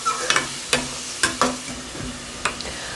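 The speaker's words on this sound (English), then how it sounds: "I'm going to give this a stir" A pot of Bahamian crab and rice with tomatoes gets stirred, a spoon scraping and knocking against the pot in several separate strokes over a steady low simmering hiss.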